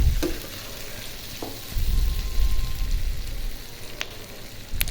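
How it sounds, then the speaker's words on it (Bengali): Sliced bitter gourd frying in generous oil with onion and green chilies, a steady sizzle with occasional stirring scrapes and clinks of the spatula against the pan. "এভাবে করলা ভাজি করলে বেশি ভালো লাগে আমার কাছে"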